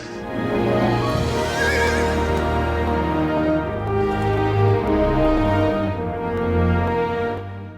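A horse whinnies loudly and close, a long drawn-out neigh layered over rumbling background sound, with no speech.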